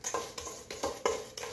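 Brownie batter is stirred in a bowl with a spoon, giving faint, close, rhythmic scraping strokes about every third of a second.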